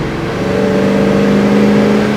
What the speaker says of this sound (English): Hit the throttle and the car moves.